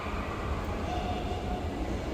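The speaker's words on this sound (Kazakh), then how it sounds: "біздің пойыз бар ғой, қазір отыратын пойыз." A passenger train at Nurly Zhol railway station gives a steady low rumble and hum of rolling stock close by, continuous and moderately loud without clear clicks or voices.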